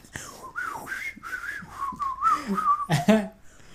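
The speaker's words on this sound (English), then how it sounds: "He just whistles and walks off." A Final Fantasy IX character whistles a short, wavering tune in clear melodic phrases, fairly close and alone, with a brief breathy flourish near the end.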